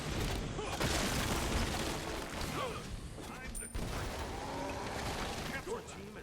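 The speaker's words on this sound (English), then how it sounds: "Your team has destroyed a right enemy tower" Enemy tower crumbling in the game Smite, a dense run of booming, crackling destruction blasts that fills the whole stretch at steady loudness, with game announcer voice and effects layered over it.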